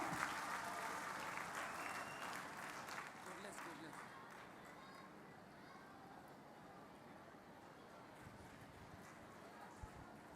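An audience at a Jaipur fair applauds to welcome Captain Yogendra Yadav, producing a steady wash of clapping from a large crowd that fades gradually over several seconds, with faint voices underneath.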